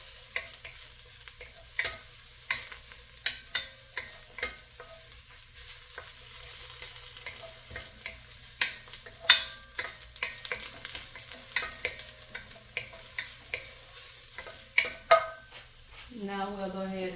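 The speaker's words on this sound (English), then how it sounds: "Sauteed mushroom." Mushrooms sautéing in a pan as a steady close sizzle, with repeated scraping and tapping as they are stirred and a brief metallic rattle near the end, no talking.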